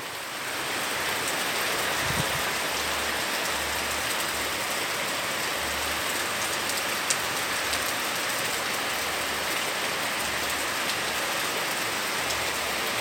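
Heavy rain pours down steadily, a dense hiss with drops pattering on surfaces nearby and a faint low thumping underneath.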